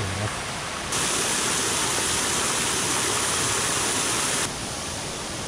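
A groundwater-fed stream in Karuizawa flows nonstop into a river, giving a loud, steady rushing wash of water that holds constant throughout and briefly grows fuller in the middle.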